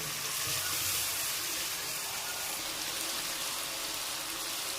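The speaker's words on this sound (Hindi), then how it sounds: "अब हम इसको अच्छी तरह भूनेंगे।" Chickpea curry (chanay) fries in a pan with a steady, even sizzle that runs throughout, close and moderately loud, with no talk over it.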